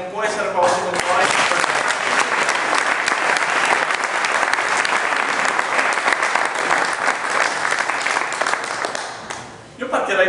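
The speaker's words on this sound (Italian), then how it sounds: "vorrei dedicare un applauso a lei" Audience applause at a political school event of the Lega Nord in Vottignasco, loud dense clapping from a crowd lasting nearly ten seconds before quickly fading out at the end.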